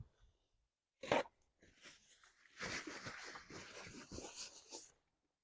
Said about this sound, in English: You guys can probably hear me chewing this.